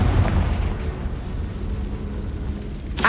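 A Confringo blasting spell bursts in a tomb in Hogwarts Legacy on PS4, a loud low boom that rumbles and fades into a long tail before a sharp crackle at the end.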